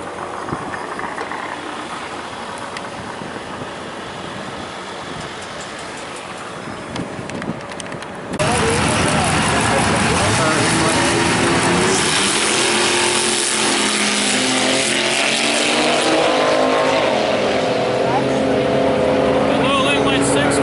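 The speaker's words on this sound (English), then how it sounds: "Ooh, a Camaro funny car." A Camaro funny car at a drag racing hot rod reunion idles under background noise, then erupts into a sudden, very loud, roaring engine blast that continues at full intensity, with voices talking beneath it.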